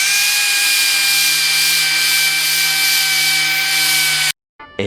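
A DA sander grinds steadily across cured 3M epoxy adhesive on a C10 truck firewall panel, a loud continuous whine with constant pitch that cuts off abruptly near the end.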